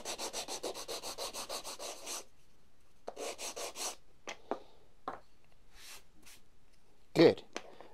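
Sandpaper wrapped on a block rubs across wood while making a simple egg tray: a quick run of rhythmic back-and-forth strokes, then a shorter burst, followed by scattered scrapes and a louder brush near the end, all close and fairly quiet.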